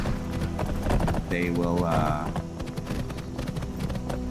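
Horse hooves clip-clop at a steady trot in Skyrim, the modded fantasy game, mixed with game music while someone talks over them.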